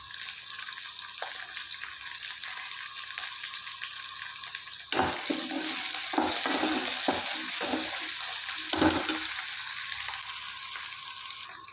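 Onion, garlic and curry leaves sautéing in a pan, a continuous hissing sizzle with repeated stirring scrapes and spoon knocks growing busier midway, no speech.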